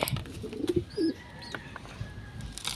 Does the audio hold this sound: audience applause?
no